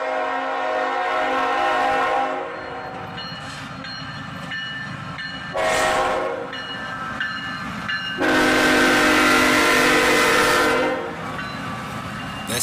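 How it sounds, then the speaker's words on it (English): A southbound CSX freight train led by an ET44AH and a low-numbered AC44CW locomotive in YN2 paint rumbles past close by, its horn sounding in several long, loud blasts over the steady roar of the engines and cars. "This southbound is led by an ET44AH and CSX number 5, a very low numbered AC44CW, still at YN2 paint."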